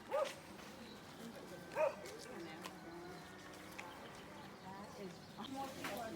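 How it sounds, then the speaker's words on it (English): Dogs bark a couple of times at a distance along the Camino path near Santiago, short sharp yaps over a quiet outdoor ambience with faint birdsong and a murmur of voices. "Look at the dogs."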